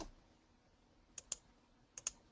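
A handful of light computer-keyboard keystrokes, two quick pairs of crisp clicks entering a number, close and quiet with no talk.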